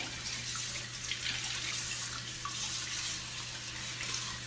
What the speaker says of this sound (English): I rinse the basket out,